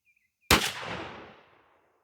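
A single blast from a Remington 11-87 12-gauge semi-automatic shotgun firing a 3-inch Remington Nitro Magnum shell of #4 shot through a Remington Super Full choke, one sharp loud report with a long fading outdoor echo.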